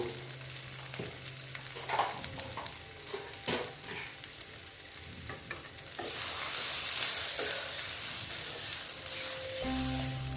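Mashed potato is stirred and mixed by hand in a bowl for egg chops, giving soft, irregular scraping and squelching strokes up close. A steady hiss joins midway.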